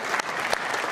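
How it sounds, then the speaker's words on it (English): An audience at a Wellington business event applauding, brisk continuous clapping filling the short moment at steady, fairly close level. "Big round of applause."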